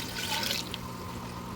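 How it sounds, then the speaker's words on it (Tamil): Mutton cooking stock being poured into a pot of Ambur-style mutton biryani, a soft steady watery rush and trickle heard close up for a short moment, with no talking. "அந்த தண்ணி எடுத்து இதில் ஆட் பண்ணிக்கோங்க."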